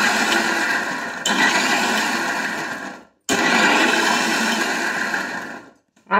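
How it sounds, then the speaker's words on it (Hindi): An electric mixer grinder whirs loudly and steadily while grinding raw tomato chutney into a coarse paste, running in two long bursts with a brief stop between them and cutting off at the end, with no talk. "अगर आप लगातार मिक्सी को चलाएंगे तो ये पेस्ट बहुत ही बारीक हो जाएगा"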